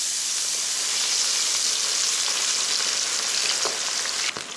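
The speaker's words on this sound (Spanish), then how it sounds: "Vamos a dividir los garbanzos en dos para freírlos." Halved chickpeas fry in very hot oil, giving a dense, steady sizzling hiss that fills the whole stretch without pause, close and even, with a small bump near the end.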